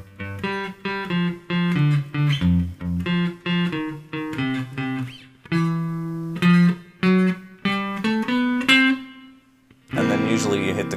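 Guitar plays a Basie-style blues ending: a quick run of single notes climbing up the fifth and fourth strings, then a brief pause and a final strummed chord. Each note is clear and close, with no talk over it.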